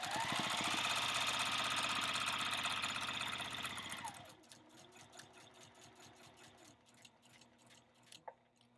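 A sewing machine stitching quilt binding, running in a steady loud whirring hum for about four seconds, then stopping, leaving quieter scattered clicks and handling of fabric.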